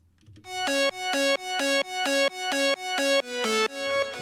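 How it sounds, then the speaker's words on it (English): A bright, buzzy synthesizer plays a series of sustained chords in a steady rhythm, each note swelling in, alone without any other instruments. "It's the synth that we use in the drop"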